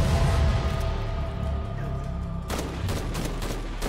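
Gunfire in Shadow of the Tomb Raider: a steady wash of shooting runs throughout, with sharper, closer bursts of shots cutting in during the last second and a half.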